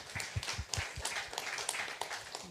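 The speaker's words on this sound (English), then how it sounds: "Let's give him a round of applause" Scattered applause from a small panel-discussion audience, faint and fairly distant, with individual claps distinguishable in an uneven rhythm.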